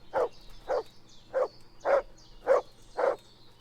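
Rumpus the dog in Kingdom Come: Deliverance barks six times at an even pace, each bark short, mid-pitched and fairly close, with quiet background between them and no talk.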